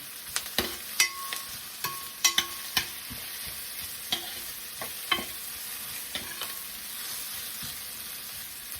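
Onions sautéing in a pan with star anise, a soft steady sizzle under repeated stirring scrapes and light clacks of a spatula against the pan, close and moderately quiet, no talking.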